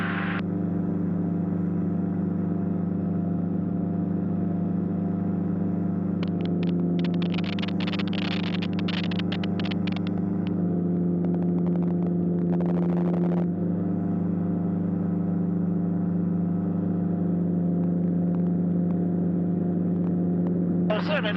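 A light aeroplane engine at about 5,200 RPM in flight at around 54 mph gives a steady loud drone throughout, with a person speaking over it for part of the time.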